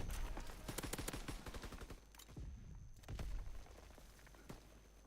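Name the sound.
mounted machine gun fire in video game Call of Duty WWII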